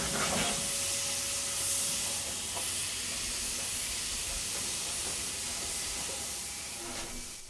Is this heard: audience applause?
no